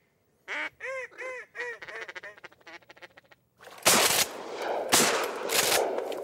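A Michigan waterfowl hunt, where a run of rhythmic duck quacks and goose-like honks rings out clearly, then gives way to a few loud, harsh blasts of shotgun fire close by.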